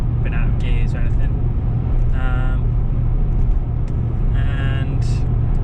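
Land Rover Discovery 3 with a 4.4 V8 engine, running in limp mode while driving on a road, a steady low engine rumble inside the cabin, with someone talking over it.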